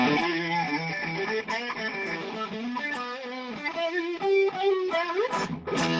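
An electric guitar plays through a distortion pedal with an asymmetrical diode clipping stage, heard on its own. It gives a gritty, mid-heavy overdriven tone across a run of picked notes and sustained bends, with no talking over it.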